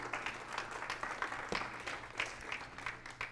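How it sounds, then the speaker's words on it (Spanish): A church congregation claps steadily, the applause dense and continuous throughout, with no voices standing out. "Den un aplauso fuerte al Señor"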